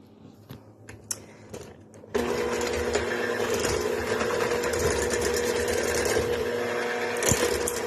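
Electric mixer whirring steadily as it blends a teaspoon of vanilla and half a cup of sour cream into cinnamon apple crumb cake batter, starting abruptly after a few clinks and running loud and close.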